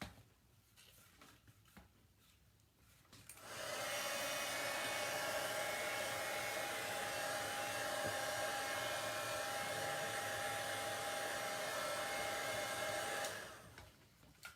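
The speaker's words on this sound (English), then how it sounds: "I'm gonna take my heat tool and I'm gonna dry this inking." A handheld heat tool blows steadily for about ten seconds to dry ink on a paper craft project, starting abruptly and cutting off cleanly, loud and close, with no talk over it.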